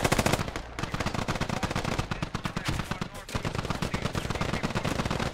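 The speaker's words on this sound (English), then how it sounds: "insurgents laying down fire" Sustained automatic gunfire from insurgent fighters in the military shooter Squad during an assault on a US forward operating base: dense rapid bursts of machine-gun and rifle fire overlapping, loud and nearly continuous, with a brief lull early on.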